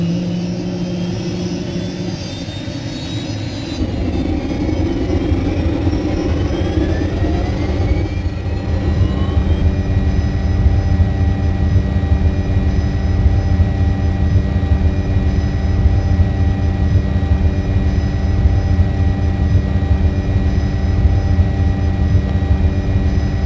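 An Apache helicopter lifts off in the Team Apache flight game, a steady loud turbine whine and rotor drone that swells after a few seconds and then holds constant and close, with tonal lines sweeping upward as power builds.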